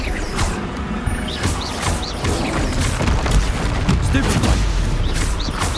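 Blasting spells explode through a chaotic Hogwarts Legacy spell battle, with repeated booms and crashing impacts layered over constant combat noise and bursts of shouting.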